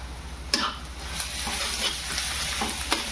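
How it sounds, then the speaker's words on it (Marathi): Ginger-chili paste frying in a pan with onion for bread pakoda filling makes a close, steady sizzle. Several sharp clinks of a spoon stirring against the pan break through it. "आता आपण याच्यात अद्रक मिरचीची पेस्ट टाकून घेऊ"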